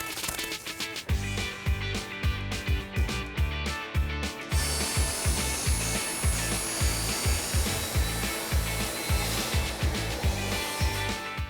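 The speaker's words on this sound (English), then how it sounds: "Then we're going to mark it and cut it using the table saw and the chop saw." A power saw, table saw or chop saw, cuts a countertop taped against splintering, giving a loud, fast rhythmic rattling drone that shifts to a brighter, steady whine halfway through, close and unbroken, with no talk.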